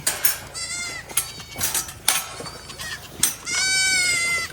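Baby goats on a farm bleat loudly and repeatedly for their mothers, several overlapping wavering cries close by, with occasional clanks in the background.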